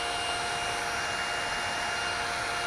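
A second thin, handle-less vintage travel hair dryer blows steadily, a smooth even rushing hiss with a faint tonal hum, close and unbroken with no voices.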